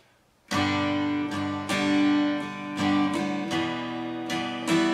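An acoustic guitar plays a slow chord progression ending on D, each strum ringing out before the next change, close and alone.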